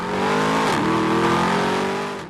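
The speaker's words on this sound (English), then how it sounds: "you might get a little more snap and pop from the exhaust due to the fuel mapping" A 2013 Mercedes-Benz SLS AMG GT coupe pulls hard, its engine and exhaust roaring loud and close, with a brief dip in pitch at a gear change before it climbs again.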